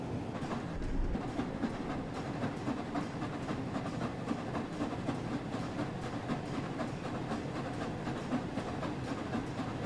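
The Flying Scotsman steam locomotive hauls its train in the Train Sim World 4 simulator, giving a steady low rumble with rhythmic clickety-clack of wheels over rail joints throughout.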